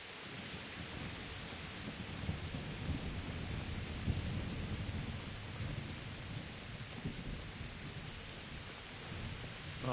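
Thunder rumbles through a steady rainstorm in the medieval role-playing game Kingdom Come: Deliverance, with loud, continuous low booms rolling beneath the hiss of rain and no voices.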